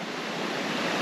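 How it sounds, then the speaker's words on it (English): A waterfall on Otter Creek along the Blue Ridge, heard as a steady, loud broadband roar of falling water that runs unbroken and alone from start to end. "And then you got the waterfall right there."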